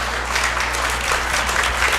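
An audience claps at a fifth-grade graduation ceremony, dense even applause that stays steady and loud for its whole length with no voices over it.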